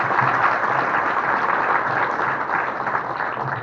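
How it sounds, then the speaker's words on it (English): An audience at a spring EMT graduation ceremony applauds the class leads, a steady, dense round of clapping from a crowd that holds for several seconds without letting up. "Just want to give them a round of applause."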